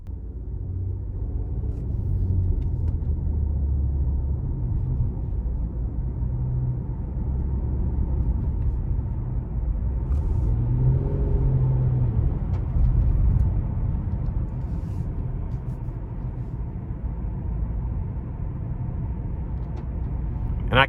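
A 2022 Nissan Murano SL AWD with a naturally aspirated V6 cruises on the road, giving a steady low engine and road rumble from inside the cabin. The hum stays even throughout, with a slight swell midway.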